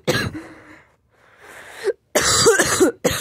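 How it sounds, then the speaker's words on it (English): Several harsh, close coughs in quick bursts, separated by short pauses, with a final rough cough fit at the end. "Sorry, guys, I'm coughing."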